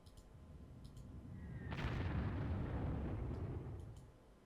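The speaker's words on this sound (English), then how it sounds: "let's start by bombarding Dieppe" An artillery bombardment striking a city in the wartime strategy game Panzer Corps, a single heavy explosion that swells into a deep, rolling rumble lasting a few seconds before fading, with faint clicks around it.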